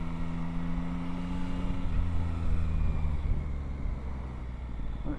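A 2022 Triumph Tracer 9 GT three-cylinder touring motorcycle hums along at low speed, its engine tone steady then dropping in pitch as it slows, mixed with wind rush, with no talking.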